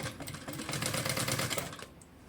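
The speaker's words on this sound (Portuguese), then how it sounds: "começa a costurar aqui" A sewing machine stitches fabric for a school backpack, a short close burst of fast, steady mechanical whirring that rises, holds for about a second and tapers off, with no voices.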